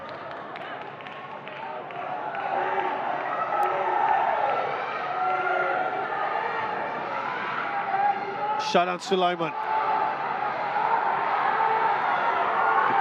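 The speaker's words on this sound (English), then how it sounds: "The crowd urging them forward" A Singapore Premier League stadium crowd at the Brunei DPMM vs Hougang United match keeps up a steady roar and chanting, with a sharp whistle-like burst midway. Commentary runs over the crowd throughout.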